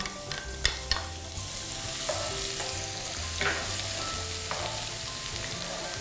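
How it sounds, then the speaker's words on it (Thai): Coarsely chopped garlic fries in hot oil in a pan, a continuous bright crackling sizzle with a few sharp spatula taps early on, close and steady, no voices. "พอน้ำมันเริ่มร้อนเดี๋ยวเราจะใส่กระเทียมลงไปก่อน"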